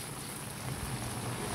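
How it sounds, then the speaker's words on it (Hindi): Steady rain falls outdoors in a continuous, dense hiss with no voices, fairly close and even throughout. "आइए बारिश को एंजॉय करें।"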